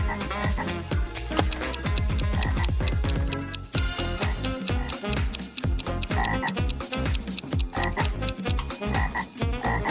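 A loud, dense chorus of frogs croaks in rapid, overlapping rhythmic bursts that run unbroken from start to finish.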